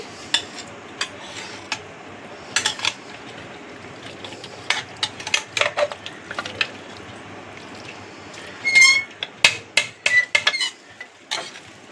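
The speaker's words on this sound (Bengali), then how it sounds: "মাংসটাকে ওপর নিচ করে দিচ্ছি" Pieces of mutton are stirred and turned in a pan while cooking a curry with papaya and potato. A metal spoon scrapes and clinks against the pan in scattered bursts, denser toward the end, and no one speaks.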